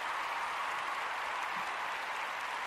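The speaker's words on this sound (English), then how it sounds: "Applause for her. Thank you, studio audience." Studio audience applause, a steady even roar of many hands clapping at moderate volume with no voices over it.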